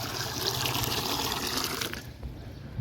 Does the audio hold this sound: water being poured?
yes